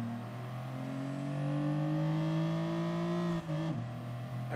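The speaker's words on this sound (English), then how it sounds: "That car is quick." A race car in Gran Turismo Sport accelerates hard, its engine note climbing steadily in pitch. It drops sharply on a gear change, then revs again, loud and close with no talking.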